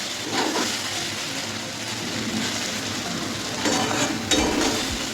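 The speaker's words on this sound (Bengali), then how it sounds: "এবার আমি 2-3 মিনিটের মতন একটু ভেজে নেব" Bitter gourd frying in a pan with mustard and poppy seed paste, a steady close sizzle with soft stirring scrapes rising and falling.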